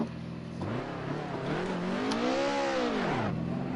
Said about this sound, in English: That car sounds really good.